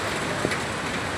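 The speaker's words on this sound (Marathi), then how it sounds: "भयंकर पाऊस आहे" Downpour drums steadily at the Shankar Maharaj math, a loud continuous hiss with one brief knock partway through.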